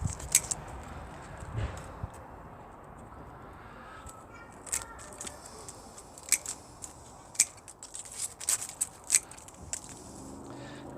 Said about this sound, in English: I'm going to cut back any dieback back into healthy green stems.